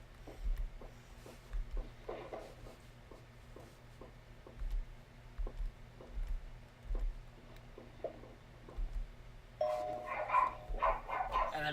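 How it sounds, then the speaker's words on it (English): A dog barking indoors, short sharp barks repeating at irregular intervals at moderate distance, fairly faint against a quiet room hum, with a louder cluster of barks near the end. "And then Max started barking."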